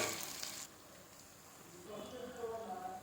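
Washed chicken hisses and sizzles in hot tempering oil, the crackle rising after a brief lull as more is added to the pan.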